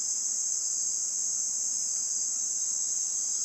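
Crickets chirp at dusk near a garden and jungle edge, a continuous high, shrill trill that holds steady and loud from start to finish, with no voices or other sounds.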